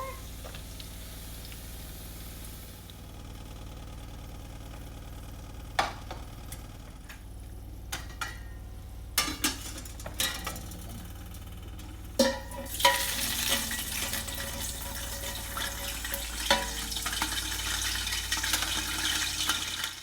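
Browned onions for chicken biryani are lifted and drained with a strainer over hot oil, making a low sizzle with metal clinks and scrapes, then a louder rush of hissing oil toward the end; close, no talking.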